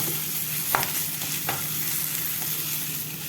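Onion and garlic fry in a spicy masala for an eggplant dish, a continuous close hiss and crackle with a couple of brief spatula scrapes against the pan.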